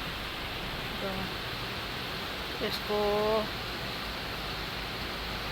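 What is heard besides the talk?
rain falling on a balcony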